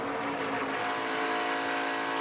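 ARCA Menards Series race cars run side by side at Talladega Superspeedway, a loud continuous engine roar sweeping past that builds and holds steady over about two seconds.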